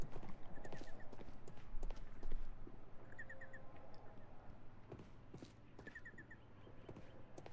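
Steady horse hooves clip-clop at a walking pace in Sherlock Holmes: The Devil's Daughter, over a low ambient game hum with occasional chirps, moderately close.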